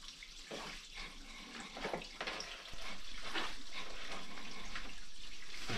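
Water runs steadily from a tap, a constant close hiss with some splashing, after a few softer, uneven splashes at the start.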